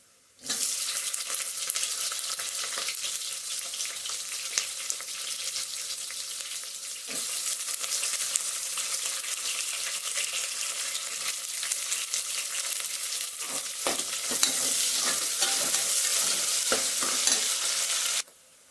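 Chopped onion sizzling in hot oil with garlic in a tempering, a continuous bright frying hiss lasting the whole stretch, broken by occasional scrapes and clinks of stirring.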